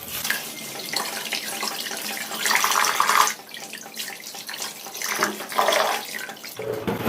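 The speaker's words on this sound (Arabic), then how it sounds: "نغسله كويس كده ونشطف" Fish, Russian fish or mackerel, rinsed under a running kitchen tap, water splashing and gushing close by in uneven surges as the fish is turned in the stream.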